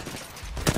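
A single enemy firing in Apex Legends: a short, dense burst of shots heard a little way off, building to a sharper crack at the end.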